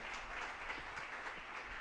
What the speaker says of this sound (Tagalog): Lahat ng naniniwala na napakabait ang Diyos, pumalakpak ng malakas sa ating mahal na Panginoon.